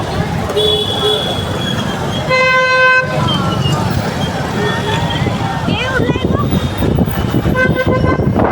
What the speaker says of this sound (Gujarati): કારનો હોર્ન મારો જગ્યા જ નથી આપતો